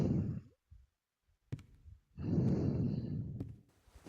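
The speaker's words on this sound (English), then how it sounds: "heavy breathing" Heavy, drawn-out breaths, a long exhale followed after a pause by another heavy breath, close and alone with a couple of faint clicks.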